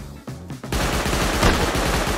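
Rapid automatic gunfire in a shooter video game, a loud run of evenly spaced shots after a couple of short opening bursts.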